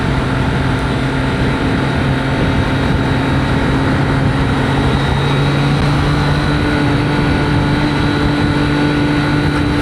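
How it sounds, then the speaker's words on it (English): Wind roars steadily past a motorcycle helmet while riding on the highway at 40 to 50 miles per hour in third gear, a loud unbroken rumble with a low engine drone beneath and no speech. "I'm wondering how this is sounding with the wind noise"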